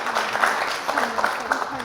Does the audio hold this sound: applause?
yes